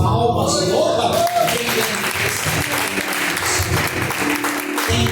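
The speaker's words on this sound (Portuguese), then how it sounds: "Palmas, louva." A church congregation applauds in a loud, dense burst of clapping that fills the whole stretch, with voices mixed in.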